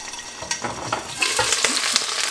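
Dal and potatoes fry in a pan with a steady close sizzle, broken by the scrape and clatter of stirring through the ingredients.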